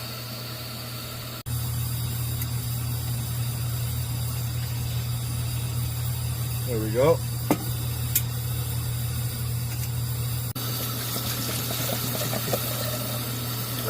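Boiling water is poured out of a pot beside a 1963 Coleman 502 camp stove, a steady, close rushing splash that starts abruptly and runs for several seconds over a low hum, and someone speaks briefly.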